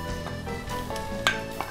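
Pork is stir-fried in a clay pot, giving a steady soft sizzle under repeated scraping and stirring strokes, with a light metallic clink of the utensil against the pot near the end.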